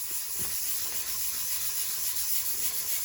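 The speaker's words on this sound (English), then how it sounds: "we'll spend probably about another 5 minutes sanding this down" Continuous soft rubbing hiss of sandpaper on a maple guitar top, steady back-and-forth strokes, fairly quiet and close, with no talking.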